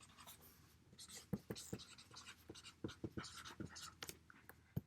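Pen scratching and tapping on paper while chemical formulas such as aluminum fluoride are written by hand, close and quiet, in brief irregular strokes over a soft room hush, with faint breathing.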